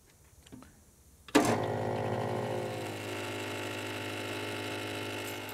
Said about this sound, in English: then we'll grind through a second grinder called a UD cyclone sample mill for our second stage of grinding